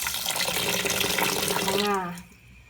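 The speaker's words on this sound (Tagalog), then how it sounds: "lalagyan ko lang ng tubig kasi pakukuluan ko lang siya" Tap water runs steadily into a pot being filled for boiling, a loud continuous splashing rush whose pitch rises as the pot fills, then cuts off abruptly as the tap is shut.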